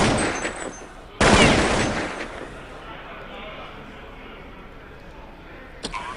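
Gunfire from a one-on-one duel in Counter-Strike during a competitive esports match, a sudden loud burst of shots after background noise, then fading into quieter ambience with a faint short crack near the end.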